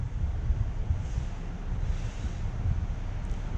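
Water rushes steadily out of a running pump's discharge elbow and hose, a continuous close-up roar with no talking.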